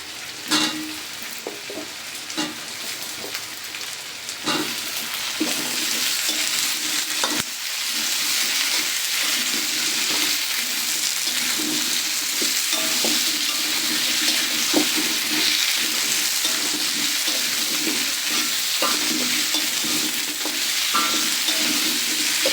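Lida river fish with chopped green tomatoes fries in a pan over a village cooking fire, a constant sizzle with scattered stirring clatters and crackles building louder after the first few seconds.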